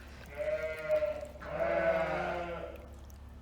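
Ewe lambs on a farm bleat in a group, two long wavering overlapping calls rising and fading over a low steady background hum, fairly close.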